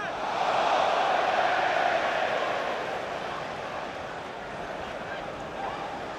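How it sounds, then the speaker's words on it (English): A football stadium crowd getting jittery during a Chelsea versus Arsenal Carabao Cup semi-final, a broad, distant roar of thousands of voices that swells early and then settles into a steady murmur. "Crowd are getting jittery."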